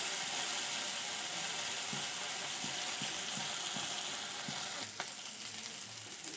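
A vegetarian banana flower curry fries in a pan, giving a steady loud sizzle throughout with a few soft scrapes of stirring and a brief clatter near the end, no voice present.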